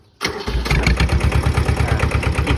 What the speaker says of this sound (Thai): บิดสตาร์ทเลยนะครับ ไม่ต้องเผาหัว ครับ เครื่องดีมาก